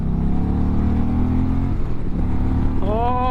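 A 2024 Indian Challenger cruiser motorcycle pulls hard on a highway, its engine droning steadily and loudly, then climbing in pitch near the end as it revs up through the gears.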